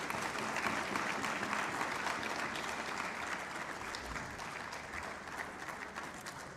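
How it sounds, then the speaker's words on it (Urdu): Sustained applause from a seminar audience welcoming a guest, a dense patter of clapping heard from some distance, holding steady throughout. "ذرا تالیاں بجا کے ان کا استقبال ہونا چاہیے"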